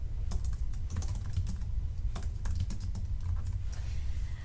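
Steady typing on a computer keyboard, fast and continuous close-up key clicks with a low background hum and no voices.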